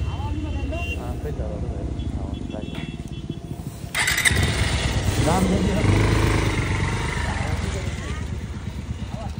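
A motorcycle with a minor fault runs at a roadside garage, its engine a steady close rumble that grows louder and rougher partway through, with people talking over it.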